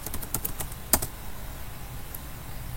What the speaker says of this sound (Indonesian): Kita ketik configure terminal.